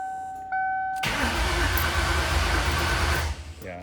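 A Mustang SN95 with a swapped Coyote engine cranks loudly and steadily for about two seconds, a broad churning starter roar that follows a pair of steady electronic tones and then cuts off abruptly.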